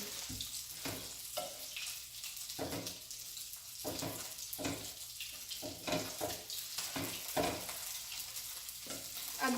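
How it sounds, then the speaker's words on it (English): Mushrooms frying in a pan with soy sauce and wine vinegar are stirred, giving a soft continuous sizzle broken by repeated scraping strokes, fairly quiet and without talk. "I'm going to stir it again."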